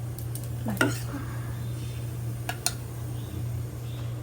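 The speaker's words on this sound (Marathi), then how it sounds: "त्याच्यामध्ये आता मी तूप टाकते." Cow ghee goes into a hot wok on a gas stove, giving a few soft sizzles and light metal clinks over a steady low hum, with a brief voice at the start.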